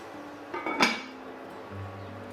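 A lid set onto a pot of onion soup, one bright metallic clank with a short ringing decay, followed by a quiet low hum.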